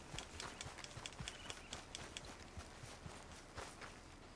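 Horse hooves clip-clopping at a steady walking rhythm in the Red Dead Redemption 2 video game, faint and quiet, a regular string of light thuds with low background sound.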